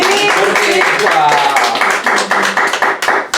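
A church congregation breaks into applause, a loud burst of many hands clapping that thins into scattered claps as a preacher's voice carries over it.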